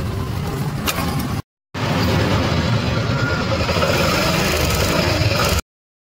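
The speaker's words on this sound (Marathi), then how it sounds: "इंजन मध्ये आवाज आहे। गाडीचं पूर्ण इंजन काम आहे।" A 2004 Hero Honda Passion motorcycle with a fully rusted tank runs its engine up close, a steady loud mechanical drone that cuts out briefly, resumes, and holds evenly.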